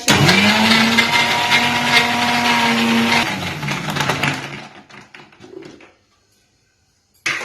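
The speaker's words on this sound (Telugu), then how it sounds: "ప్రోటీన్ పౌడర్ వేసిన తర్వాత జస్ట్ ఒక్కసారి బ్లెండ్ చేసుకుంటే ఇంకా" A blender whirs through a protein powder shake, a loud steady motor drone for about three seconds that slows, winds down and stops, then a short burst of noise returns at the end.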